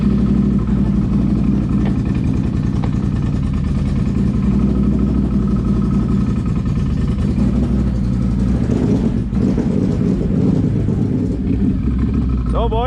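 Can-Am Renegade XMR 1000 ATV engine on a test run after a tune flash, a steady loud mid-pitched idle and low rumble running throughout with slight revving near the end, voices faintly under it.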